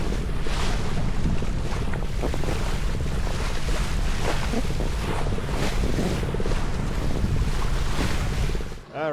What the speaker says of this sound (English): Alright, the wind is back, finally.